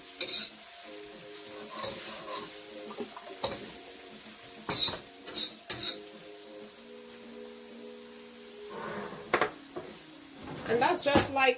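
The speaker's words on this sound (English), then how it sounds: "So I'm adding coconut milk and I'm using coconut oil. So you're going to leave this to saute a little." Kale sautés in coconut oil and coconut milk in a pan with a steady low sizzle, broken by repeated scraping and clinking stirs of a utensil against the pan.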